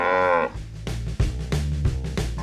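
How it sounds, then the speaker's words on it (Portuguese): A Pantaneiro cow, a nursing dairy cow, gives a loud, close moo, followed by low rumbling lowing sounds and thumps nearby, with no talk over it. "mas é uma vaca que ela tá dando leite"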